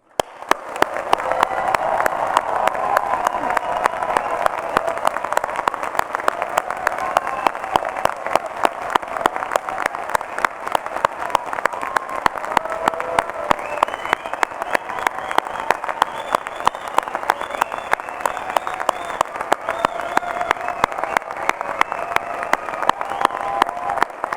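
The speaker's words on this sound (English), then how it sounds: "let us start today's ceremony by giving all of our amazing graduates a huge round of applause" An audience at a university degree ceremony in Brighton gives graduates a long, steady round of applause, thick rapid clapping with some crowd noise and faint cheering carried throughout.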